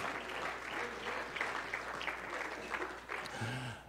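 Church congregation clapping hands during a sermon, a steady dense patter of applause filling the room, with a brief low voice or organ tone near the end.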